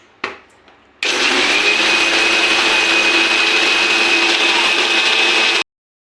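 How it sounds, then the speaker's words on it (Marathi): After a brief clatter, a mixer grinder with a small jar whirs at high speed, loud and steady for several seconds, then cuts off suddenly. "बारीक भांड्यामध्येच बारीक करायचं कारण की म्हणजे याच्यात पूर्ण बारीक होऊन जाते"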